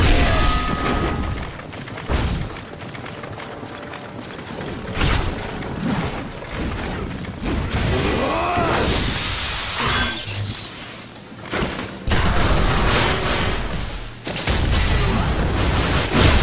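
Heavy booming cannon blasts and clanking mechanical noises in Berserk and the Band of the Hawk, with bursts of loud impacts and rattling metal across the stretch.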